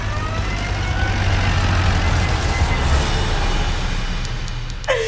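A steady, loud engine drone from a car on the move holds for about five seconds, with a low rumble underneath and a faint tonal whine near the end.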